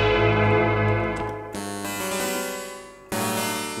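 A synth patch programmed to mimic a clavicymbal or Mozart-era piano, heard in a studio. Plucked, bright notes ring close and clear, with two sharp new attacks mid-phrase over a lower sustained tone.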